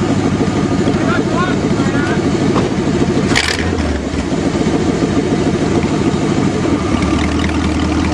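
A homemade Pontiac-based car engine runs loud and close, a dense rumbling idle that holds steady throughout with a brief higher clatter midway.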